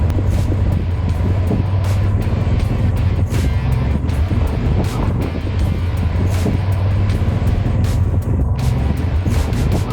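A Yamaha Super Tenere 1200 motorcycle engine drones steadily at about 3,500 RPM at speed, heard from the rider's position in the Badlands, with wind buffeting the microphone throughout.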